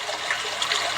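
Flowing river water rushes in a steady, dense wash that stays loud and unbroken throughout, with no voices over it.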